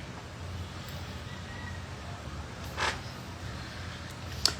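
A door is pushed open with a brief creak amid low indoor room noise, followed by a soft knock or click a moment later.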